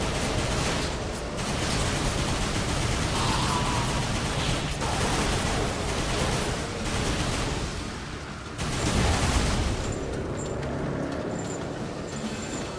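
Machine gun fire in Darksiders II combat, a sustained loud rattling barrage of rapid shots running almost unbroken, with brief pauses and a louder burst near the end, no talk over it.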